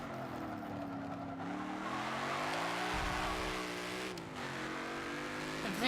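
A race car driven in the Forza video game, its engine droning steadily and shifting pitch as it revs and accelerates, with a brief dip and a tire squeal near the middle, loud and continuous with no talking.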